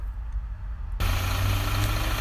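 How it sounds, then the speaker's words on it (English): A Volvo B8R engine in a Plaxton Panther coach idles with its engine bay open, a steady low rumble that jumps noticeably louder and fuller partway through, then holds an even drone. "so we now have the engine bay open just so that uh, you can hear the engine running"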